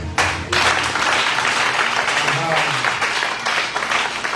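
A church congregation at a Sunday service in Abidjan claps and cheers in a steady, dense wash of applause that fills the whole clip, loud and close, with voices mixed in.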